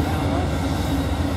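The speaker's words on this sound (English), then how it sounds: "Look at the train." A train passes near a disc golf course, giving a loud, steady rushing rumble over the whole moment, with voices talking over it.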